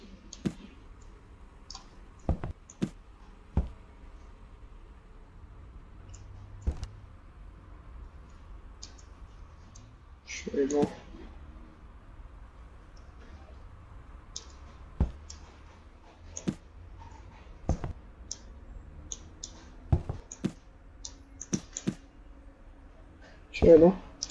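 A computer mouse clicking sharply and sporadically, with single clicks and short bursts spread across the span over a faint steady background hum.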